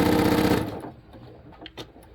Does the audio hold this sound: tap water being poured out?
no